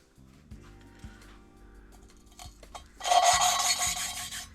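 An engine valve is lapped against its seat with valve grinding paste mixed with water, giving quiet scraping turns that swell into a louder, gritty rasping rub near the end.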